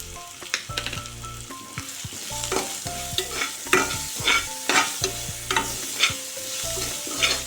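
Cumin seeds and salt fry in a hot pan, a loud close sizzle broken by repeated scraping and stirring knocks, with a faint tonal background underneath and no talking.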